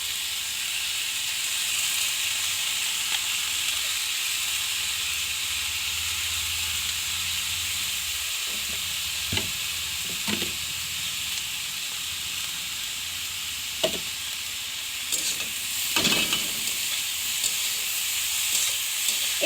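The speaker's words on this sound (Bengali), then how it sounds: "এবার দিয়ে দেওয়া হচ্ছে বাঁধাকপি মানে চপ করা বাঁধাকপি দিয়ে দেওয়া হচ্ছে" Fresh chopped cabbage frying in a pan, a steady hissing sizzle throughout, punctuated by a few sharp scrapes and taps of a spatula stirring, with no voices.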